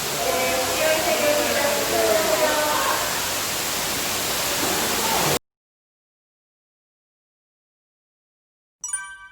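A waterfall pours inside a cave in an abandoned mine, a dense, loud, steady roaring rush that stops abruptly partway, followed by silence and then a brief return of sound.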